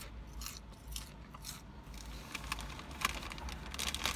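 Quiet, crisp crunching bites of hot potato chips repeat irregularly over a few seconds, close up, with no talking.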